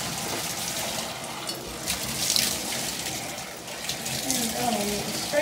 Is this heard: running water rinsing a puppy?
yes